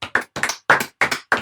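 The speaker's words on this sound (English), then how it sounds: "They're doing a round of applause across the country." People outdoors clap for the NHS at 8 o'clock, heard as about six loud, close hand claps in a steady, slightly uneven rhythm with brief silences between them.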